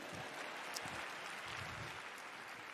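A comedy show audience keeps clapping for a comedian as he steps up, a steady, even patter of many hands at moderate level with no clear peaks or pauses.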